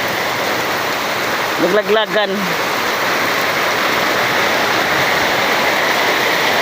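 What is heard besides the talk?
heavy rain falling at the beach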